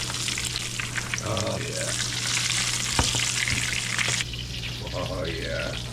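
Veal cutlets fry loudly in a pan with a dense, crackling sizzle and an occasional knock, while a voice speaks briefly over the hiss.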